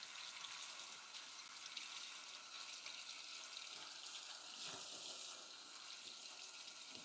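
Water running from a kitchen sink tap as dishes are rinsed, a steady faint hiss and splash with small shifts in flow, with no one talking.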